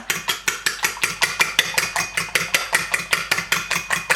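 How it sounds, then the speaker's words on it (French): Eggs being whisked in a bowl, whites and yolks mixed together, with a fast steady rhythm of tapping strokes against the bowl, close and clear, about five strokes per second. "Je vais mélanger le blanc et le jaune."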